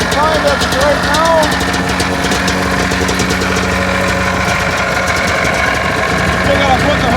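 Arctic Cat 550 ATV engine running steadily after a repair, a continuous mid-pitched idle with faint vibration, close by and unbroken for the whole stretch.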